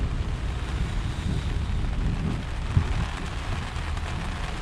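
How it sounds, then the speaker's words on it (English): Heavy rain pours steadily outdoors during a guitar-building session, a dense continuous roar with gusty wind noise buffeting the microphone and one brief sharp crack near the end. "I'm working again when it rains so hard."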